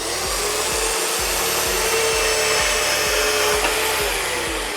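A DOVAMAN portable bandsaw cuts through wood, its steady motor whine joined by a regular low pulsing about twice a second, loud and close with no talking.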